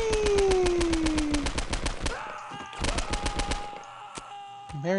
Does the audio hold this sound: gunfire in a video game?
yes